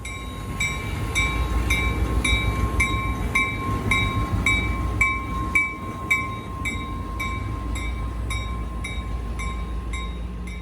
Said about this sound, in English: we are doing this trip in one of the dome cars